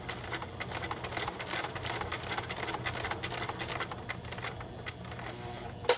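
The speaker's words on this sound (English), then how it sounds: "Back out of reverse, and then I'm going to sew across." A domestic sewing machine stitches across fabric while making a stuffed cloth doll, giving a steady, fast mechanical whirring with rapid needle ticks that runs continuously and close up, with no talking.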